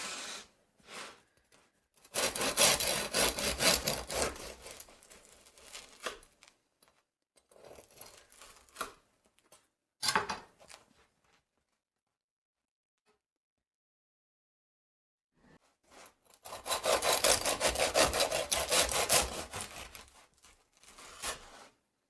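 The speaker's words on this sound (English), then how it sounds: "let's see how this loaf slices up" A knife saws through a loaf of organic red spring wheat bread in two long, crisp, rasping bursts with short scraping strokes and quiet pauses between them, close up and alone.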